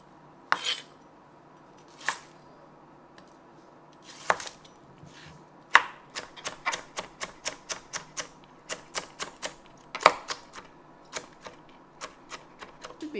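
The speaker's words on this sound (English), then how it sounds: "What I do is I chop them into small pieces" A knife chops a long carrot and other vegetables into small pieces on a cutting board, with sparse single knocks at first and then a quick, even run of crisp close chops.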